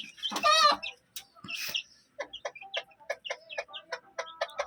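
Two hens cluck in short, uneven bursts close by while being fed grain, with a louder squawk near the start and quieter clucks continuing throughout.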